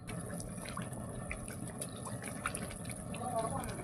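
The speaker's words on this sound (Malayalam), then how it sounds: "നമുക്ക് ഇവിടെ എടുത്തു വച്ചിരിക്കുന്ന ചൂടുവെള്ളം കുറച്ച് ചേർത്ത് കൊടുക്കാം" Hot water is poured into a pot of ginger curry, giving a steady, faint liquid rush and trickle throughout.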